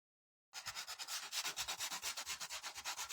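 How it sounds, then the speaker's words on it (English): Gator sander working the edges of a painted wooden primitive sign, a close, steady rasping scrub in quick rhythmic back-and-forth strokes, starting abruptly after a moment of silence, no talking. "We are getting the edges with this Gator sander"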